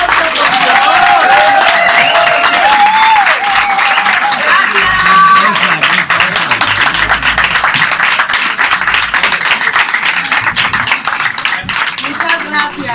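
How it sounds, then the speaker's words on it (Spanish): An audience at a book presentation in Madrid gives the author loud, sustained applause. Dense clapping fills the room with crowd murmur and a speaking voice over it. "Pero un aplauso más fuerte, por favor."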